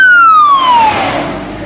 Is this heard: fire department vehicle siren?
yes